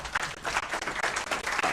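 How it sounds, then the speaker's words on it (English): Conference audience at a Bar Council of England and Wales and Law Society of Kenya legal gathering clapping in a dense, steady burst of applause filling the room, with no voices over it. "Members, I think we can clap for our"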